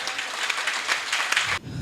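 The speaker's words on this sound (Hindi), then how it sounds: "इस बात पर एक बार जोरदार तालियां बजाएं" Audience at a Hindi poetry stage event bursts into loud, dense applause that holds steady for about a second and a half, then cuts off sharply into a quiet room.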